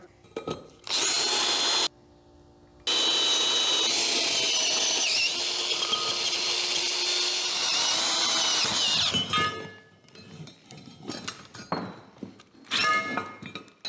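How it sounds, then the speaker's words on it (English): An old power drill bores 3/8-inch clearance holes for bolts in an abandoned backyard fallout shelter, with two loud sustained whining bursts, a brief pause between them, then scattered clunks and short spins as it finishes. "we're gonna drill these outer holes to 3/8 just for clearance for our bolts to pass through."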